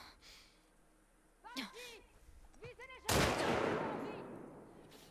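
A single loud gunshot rings out in The Last of Us Part 2, a sharp blast with a long fading tail, after strained voices gasp and cry out.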